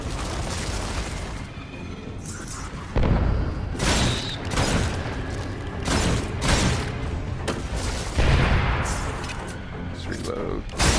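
Repeated booming shots from a shotgun with a built-in grenade launcher in the VR shooter Farpoint, several heavy blasts spaced a second or two apart, loud and close, with some talk over the gunfire.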